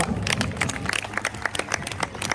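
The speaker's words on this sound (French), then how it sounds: "nous allons pouvoir applaudir notre kookaburra" A zoo bird show audience applauds a kookaburra after its demonstration: a short burst of moderately distant clapping from a crowd outdoors, uneven and thinning toward the end.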